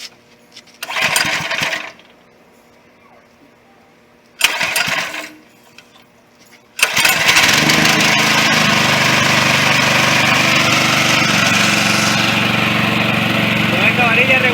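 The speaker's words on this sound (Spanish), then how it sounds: "colocamos en encendido, chocamos un poco el motor, aceleramos término medio" A motorized pesticide sprayer's small engine is pulled to start twice in brief bursts, then catches and runs loud and steady at a medium throttle, close by.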